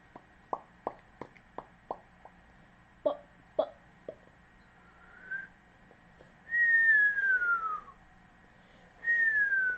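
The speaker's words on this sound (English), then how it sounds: "Look, I'm trying to whistle myself." A person whistling nearby, a series of short sharp chirps followed by a few longer sliding whistled notes, thin and fairly quiet against a still background.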